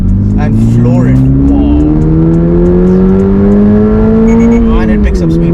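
A 2024 Subaru BRZ tS pulls out of a tight U-turn at full throttle, its engine note climbing steadily and loud from inside the cabin, with a brief dip near the end as it shifts or lifts.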